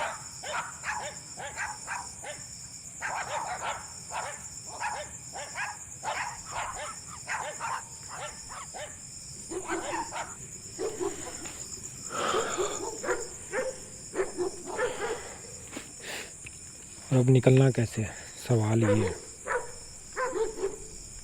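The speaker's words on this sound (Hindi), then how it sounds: "क्योंकि कुत्ते बहुत ज़्यादा इकट्ठे हो गए हैं।" A crowd of dogs barks outside at night, with repeated distant yips and louder nearer outbursts over a steady insect chirr, and someone speaks quietly in between.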